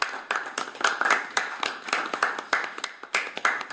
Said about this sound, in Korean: 박수 치면서 한번 할까요?